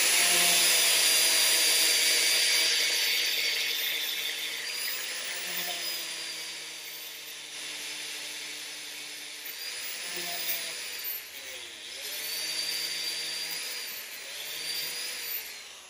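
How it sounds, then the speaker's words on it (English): An angle grinder grinds metal off a front suspension part of a Holden HQ–WB series car during a front end rebuild, a steady high whine with pitch dips as the disc bites, running continuously and fairly close. "we'll grind off the other side and we'll clean up this part."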